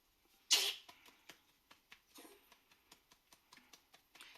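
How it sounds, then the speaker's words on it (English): A man coughs: one sharp, loud burst followed by a string of softer, dry coughs and throat sounds spaced irregularly in a quiet room. "What's with the cough?"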